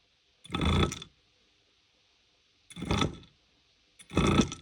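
A Rocky Mountain Altitude Powerplay e-bike motor, faulty and showing a Hall sensor error, runs roughly during a magnet test in three grinding, rattling bursts of about half a second to one second, each separated by silence, close up.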